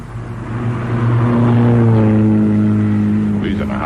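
A car roars past in a radio drama sound effect, its engine swelling from faint to loud and holding a throaty drone before fading, heard alone and close.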